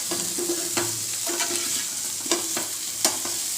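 Fried potatoes sprinkled with black salt and chaat masala are stirred in a pan, with a constant oily sizzle and sharp spoon-on-pan clinks repeating every half second or so, close and without talk.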